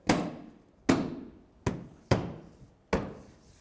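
Five sharp knocks in an uneven rhythm as bumper bracket tabs are tapped into place on a 2015-2019 Hyundai Sonata, each hit ringing briefly and decaying, close and fairly loud with no talk.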